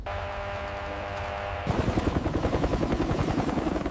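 A military helicopter hovers with a steady drone, then a burst of rapid machine-gun fire breaks in and continues loudly over the rotor noise, with no speech.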